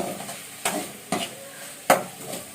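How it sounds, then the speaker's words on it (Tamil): Onions and tomatoes sauté in a pan for a potato poriyal, with a soft steady sizzle broken by three sharp, close spatula scrapes against the pan. "பாருங்கள் வெங்காயம் தக்காளி நல்லா வதங்கி வந்துச்சு பாருங்கள்"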